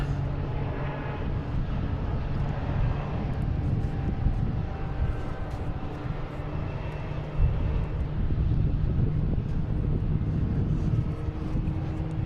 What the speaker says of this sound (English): Now we have Alaskan Airlines coming in from San Diego.